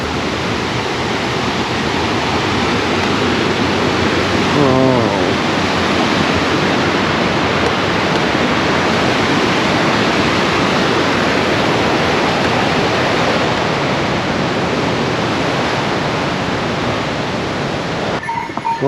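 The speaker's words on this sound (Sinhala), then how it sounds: "බලන්නකෝ වතුර පාර කොහොමද කියලා." Rushing stream water tumbling down from Everest Base Camp on the descent, a loud, unbroken broadband roar like a waterfall that fills the whole stretch, with no speech.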